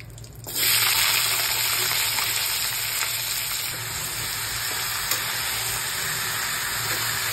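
Vegetables for Bengali sukto, with bay leaves already tempering in the oil, hit the hot pan and erupt into a loud, steady sizzle of frying that holds evenly to the end, with no voices.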